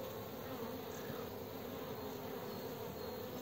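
Honeybees buzz steadily at a hive entrance in February, a continuous close, even droning hum with no pauses or talk.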